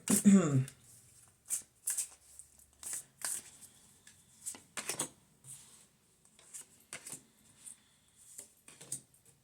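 Oracle cards being shuffled by hand, a series of short papery riffles and flicks coming in uneven bursts, close and fairly quiet, with a voice speaking briefly.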